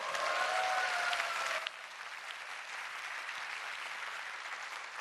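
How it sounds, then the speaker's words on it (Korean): An audience at a talk applauds a speaker's joke about being the prettiest baby in the neighbourhood, dense clapping that fills the hall and then drops to a softer, sustained patter partway through. "박수 치셔도 됩니다."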